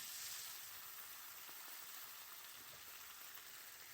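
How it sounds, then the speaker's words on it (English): Sausages and peppers sizzle steadily in a pot while being stirred, a soft continuous frying hiss with faint scraping at the bottom, no talking. "I keep stirring the pot because I want to grab all those flavors off the bottom"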